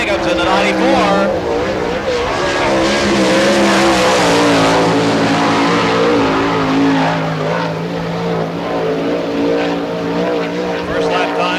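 A sprint car, number 94, roars through a timed lap on a dirt oval during Florida Speedweek in Barberville, engine note loud and sustained, pitch rising and falling as it circles, with an announcer talking over it.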